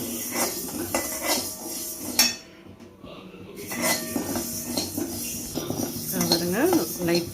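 Dal being roasted and stirred in a pan for Pongal: close, busy metallic scraping and clinking of a spoon against the pan, with a short lull partway through, and a voice talking over it.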